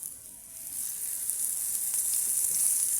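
Food fries in a pan over a wood-fired clay stove, a steady close hiss and sizzle that grows slightly louder, with no talking.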